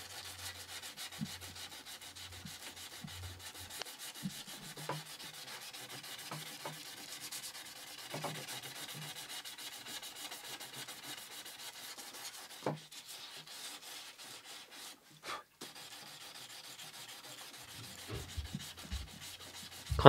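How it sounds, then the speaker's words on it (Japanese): Sandpaper rubs steadily back and forth across wood in soft, even strokes, quiet and close, with no voices. "ここからサンドペーパーを使って仕上げていきます。"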